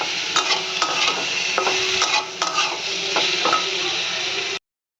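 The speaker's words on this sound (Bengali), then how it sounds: "সবগুলোকে ভালো করে কষাতে হবে।" Spice masala with a spoonful of sugar being stir-fried in a pan, a steady loud sizzle broken by repeated scraping strokes of a spatula, ending abruptly in silence.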